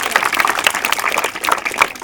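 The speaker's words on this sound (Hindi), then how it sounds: "ताली बजा दो सभी।" A group of children applauding together in a classroom after a pupil's perfect test result, with dense, steady clapping that stays fairly loud throughout and never breaks.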